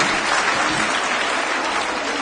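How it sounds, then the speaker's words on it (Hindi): A crowd at a political rally in India bursts into loud, sustained applause, dense clapping close up and filling the whole moment without pause. "उनके लिए भी एक बार जोरदार ताली बजाइए"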